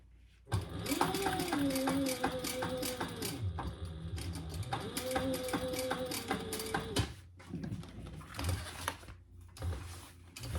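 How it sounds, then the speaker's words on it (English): A sewing machine stitches a Snap n Go Slim duffle bag, its motor whirring and needle chattering in two steady runs separated by short pauses, close and fairly loud with scattered handling clicks afterward. "Okay, and then I am going to do another row of stitching on this upper side."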